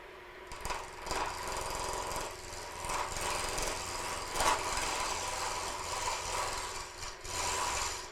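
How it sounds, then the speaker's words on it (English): A gouge cuts into spinning wood on a lathe, giving a continuous rough whirring and rasping hum with a few louder catches, steady and close throughout. "So I'm going to start with a simple gouge."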